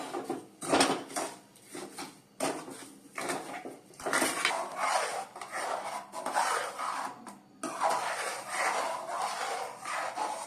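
A spoon stirs custard powder into milk in a pot, making repeated scraping and rubbing strokes in an uneven rhythm. The strokes are close and moderately loud, with no voices.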